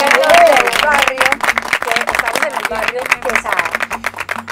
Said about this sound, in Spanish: vamos a recibir con un fuerte aplauso a nuestros invitados musicales hoy